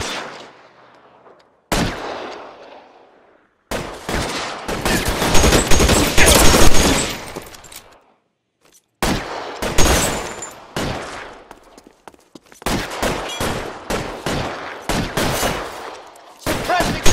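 A loud shootout in the video game L.A. Noire, with bursts of rapid gunfire and heavy shots coming in dense clusters separated by brief silent gaps.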